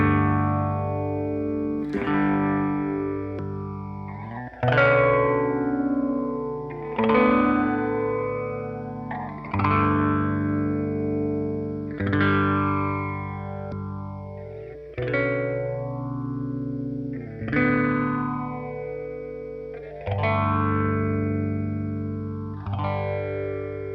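Clean, light electric guitar run through a Super Phaser modulation pedal on a pedalboard, playing a slow repeating phrase of chords and single notes. Phase sweeps rise and fall steadily across a little over twenty seconds, played alone without talk.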